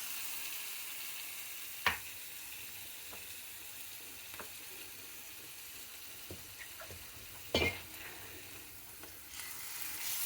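Tomato puree fries with ginger garlic paste for a rajma curry: a soft, steady sizzle runs throughout, punctuated by a few louder clinks and scrapes of a spoon stirring the pan.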